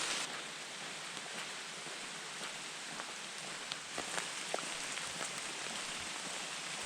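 Constant soft rain patters on a surface along the Peshtigo River at Governor Thompson State Park, Wisconsin, an even hiss with scattered individual drop ticks, fairly quiet and without speech.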